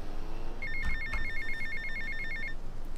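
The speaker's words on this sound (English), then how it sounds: "phone call is ringing, because there'll be a phone call when I get off" A phone rings in the video game GTA: Vice City, giving a steady electronic trill of rapid repeated tones for about two seconds, clear and fairly prominent over a low game background.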